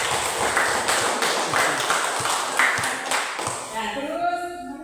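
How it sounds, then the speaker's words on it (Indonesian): Primary school pupils clap for the girls in their class, a busy run of many hands slapping together for about four seconds before the clapping tapers off and a voice comes in. "ayo tepuk tangan dulu untuk perempuan"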